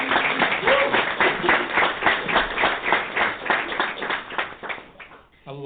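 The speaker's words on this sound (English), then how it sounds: "so please, a little applause for him" Audience applause at a student network gathering, brisk even clapping from a modest crowd that carries on steadily before tapering off and ending in a brief sound at the close.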